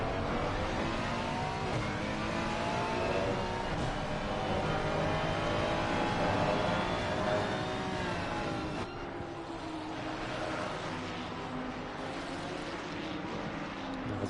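GT3 race cars, including a Lamborghini, roar continuously at high revs in the ACC racing game on PS5 at Misano, with engines sweeping up and down through gears in a dense, loud, layered pack.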